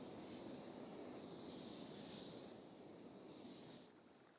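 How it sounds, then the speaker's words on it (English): Airplane in the city-building game Cities: Skylines passing overhead, a faint steady jet roar with a whining high tone that bends slightly, fading toward the end. "Heard a plane"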